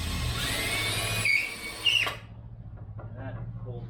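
Cordless power drill driving a screw at a 45-degree angle into wood for a DIY outboard motor stand, a loud whirring burst with a rising squeal that cuts off abruptly, followed by quieter handling noise.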